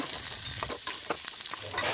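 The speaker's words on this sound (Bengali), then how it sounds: "এদিকে দেখো আমি আলুগুলো ভেজে নিচ্ছি, তেল দিয়েছি" Potatoes frying in oil while being stirred, a soft continuous sizzle broken by repeated scraping stirs of a spoon in the pan, close and without voices.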